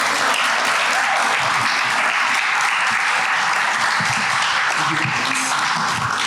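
Audience applause for the speakers at a science café event, a dense, even clapping that stays loud and steady from start to finish.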